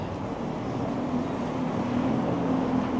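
Cold, gusty wind sweeps along a busy Toronto street near Brunswick Avenue and Bloor Street, a steady broadband rush with a low hum of passing traffic beneath it, continuous and fairly loud throughout.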